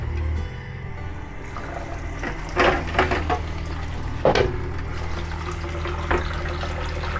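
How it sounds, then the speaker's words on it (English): Water being poured into a container in a mobile darkroom during wet plate collodion processing, a steady pour under a few nearby knocks of wood and handling clatter. "Now, I'm gonna add some water."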